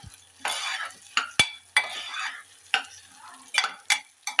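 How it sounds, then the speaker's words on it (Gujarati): Broken wheat being stirred and roasted in ghee in a pan: a soft sizzle with repeated scraping strokes and sharp clinks of the spoon against the pot, close and alone. "હવે આપણે નાખી દઈ ફાડા ફાડાને પણ શેકી લેવાના ઘીમાં"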